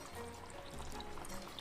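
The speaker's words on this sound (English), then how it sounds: "Now we're gonna add water." Water, about a cup and a half, is poured into a pot of Hatch green chile stew, giving a steady, continuous trickling pour close by with no talk.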